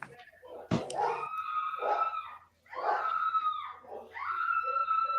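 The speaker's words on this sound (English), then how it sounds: "Is the dog killing someone, Ryan?" A dog yelping and whining in loud, drawn-out cries, three long bursts in a row with short gaps, rising and falling in pitch, close by.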